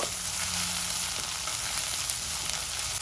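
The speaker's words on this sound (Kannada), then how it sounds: "ಟೊಮೊಟೊ ಕೂಡ ಎಣ್ಣೆಲಿ ಚೆನ್ನಾಗಿ ಫ್ರೈ ಆಗಿದೆ" Sun-dried tomatoes fry in oil in a pan, giving a steady, close hiss and crackle that holds evenly throughout with no voices.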